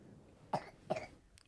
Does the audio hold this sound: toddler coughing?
yes